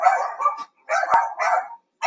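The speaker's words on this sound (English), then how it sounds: "Why are they barking?" Several dogs barking in bursts close by, three clusters of loud yaps and woofs separated by short silences, with no talk over them.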